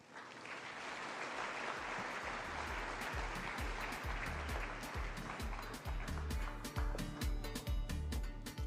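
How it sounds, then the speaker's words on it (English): Applause at an awards dinner after the president's speech, a dense crowd of clapping that builds and holds steady, with individual claps standing out near the end. "I think he deserves another round of applause."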